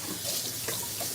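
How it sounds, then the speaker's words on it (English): Tap water gushes into a sink as meat is rinsed off, a loud close splashing rush with brief surges where the stream hits the meat. "Gonna rinse this off."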